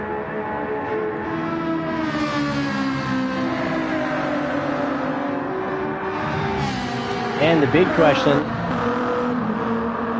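Race car engines roar in Gran Turismo 7 at Laguna Seca, a continuous loud drone with shifting pitch under steady commentary, swelling briefly near the end as a car revs or passes.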